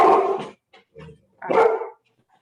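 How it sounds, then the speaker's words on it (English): A pet dog barks at home during an online community meeting, two loud close barks separated by softer whimpering yips, with no talk. "no, my dog wants to bark."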